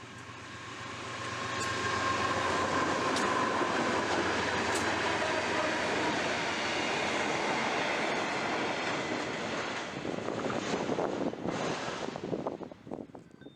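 Queensland freight train 8221, led by locomotive 2835 with 2818, rumbles past in a long steady roar, wheels clattering on the rails and wind buffeting the microphone, with rhythmic joint clicks as it fades.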